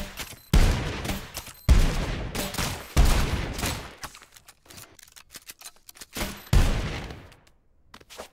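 Loud explosive gunshots from a video game gun firing grenade-like rounds, four big booming blasts spaced about a second apart with crackling bursts and smaller pops in between.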